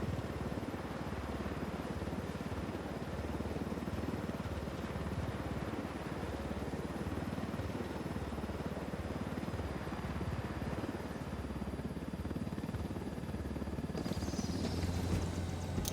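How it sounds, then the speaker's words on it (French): A helicopter in Ghost Recon Wildlands hovers with a continuous loud rotor and engine drone that holds steady throughout, with no voices. "laisse l'hélico ici"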